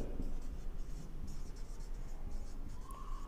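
Pen writing numbers onto a drawn figure on paper, faint short scratching strokes up close over low background hum.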